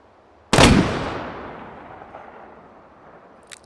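A large gun fires once in Hot Dogs, Horseshoes & Hand Grenades, a loud, close blast whose booming tail fades slowly over several seconds, with a faint click near the end.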